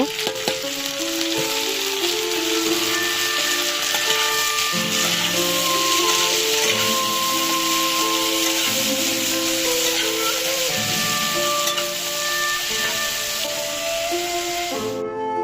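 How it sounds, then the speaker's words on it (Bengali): Tomatoes frying in an iron wok over a wood fire, a steady close sizzle and hiss running continuously with a faint clink of stirring and no talk. "ডিমটা তুলে নিয়ে আমি একই কড়াইয়ে টমেটো ভাজিও করে নেব"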